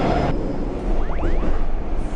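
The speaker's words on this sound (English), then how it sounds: "The subway runs in a tunnel." Subway train running through a tunnel, a loud steady rumble of wheels on rails with a brief high squeal of metal partway through, close and continuous with no talk.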